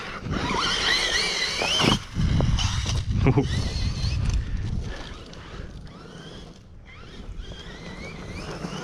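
A Hobao MT2 Marder 8s cross buggy fitted with a boat motor runs on gravel, giving a steady rushing roar with a wavering high whine and a brief dip midway, under outdoor wind noise.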